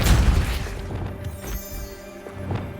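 Depulso spell cast in Hogwarts Legacy, a heavy booming blast at the start that thumps low and loud, then rings out into a fading tail with faint scattered crackles.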